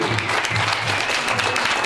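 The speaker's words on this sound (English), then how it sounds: "Give him a round of applause." A conference audience in Minneapolis gives a dense, steady round of applause, continuous and fairly loud for the whole stretch.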